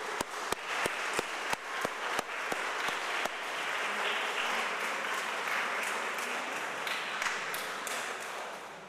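A church congregation applauds Robin at a Sunday service, opening with a few sharp individual claps that quickly swell into sustained, even applause filling the room, then fading slightly toward the end.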